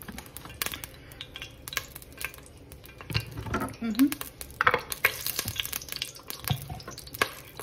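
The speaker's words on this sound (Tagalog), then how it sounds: "Atin po munang igisa itong yung ating sahog na ating pipirito." Ingredients sautéing in a pan, a quiet sizzle broken by frequent scraping and clinking of a utensil against the pan, irregular and close, with brief voice in places.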